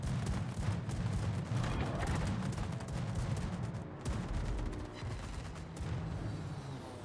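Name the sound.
234mm battleship secondary guns firing in video game World of Warships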